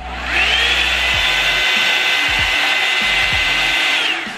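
On its high setting, a Revlon One Step hair dryer spins up to a strong, continuous airy roar with a steady motor whine, heard alone and close for about four seconds before cutting off.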